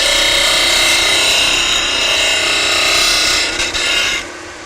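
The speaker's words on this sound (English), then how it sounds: "I'm going to do a little demo here of actually sanding with this machine." A Baileigh DBG-106 combination belt and disc grinder sands a workpiece on its disc side, giving a loud, continuous abrasive rasp close by that dips briefly and then eases off near the end.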